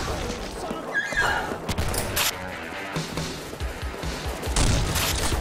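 Gunfire bursts out in the zombie shooter BrainBread 2 on a rooftop arena map, loud irregular volleys and booms mixed with clattering game noise and occasional talk.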